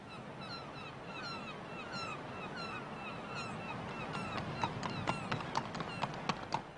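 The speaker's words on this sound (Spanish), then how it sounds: "Napoleón pasó aquellos días montando a caballo, explorando los escasos recursos de Elba." Horse hooves clip-clop in a steady rhythm, growing more distinct toward the end, with a horse being ridden on the island of Elba over a soft ambient background.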